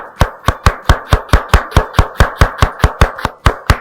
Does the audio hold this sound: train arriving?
no